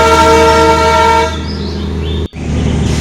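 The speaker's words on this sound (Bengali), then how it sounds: "টয় ট্রেন আওয়াজ শুনতে পাচ্ছেন।" Darjeeling toy train passing through Sukna forest sounds a long, loud multi-tone horn blast up close, which fades into the steady rumble of the moving train.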